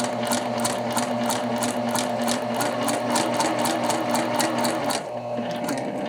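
A home sewing machine running a straight number 2 stitch on bias tape being attached as a neckline facing, with a fast, even mechanical whir and rhythmic needle ticking, close and continuous, slowing slightly near the end.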